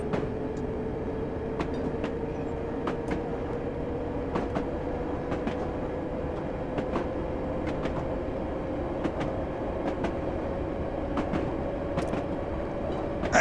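A London Underground D78 Stock train rumbles along the track with a low steady drone, a rising motor tone and sharp rail clicks at irregular intervals throughout.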